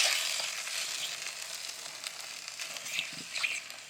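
Spices and chopped onions frying in a pot, a steady close crackling sizzle with faint stirring scrapes, alone without talk.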